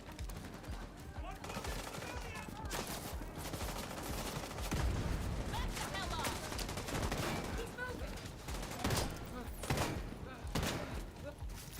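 Automatic rifle fire in the video game The Division 2 comes in several rapid sustained bursts with short pauses, loud and close, with a voice talking underneath.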